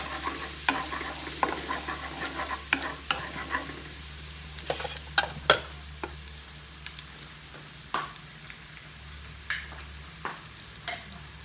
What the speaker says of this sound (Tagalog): Kahit hindi pa masyadong mainit guys, ilagay natin ang ating garlic.